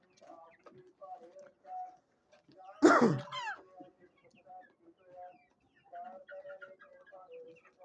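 Desi hens on a farm in winter give scattered soft clucks and calls, with one louder squawk in the middle, under light talk.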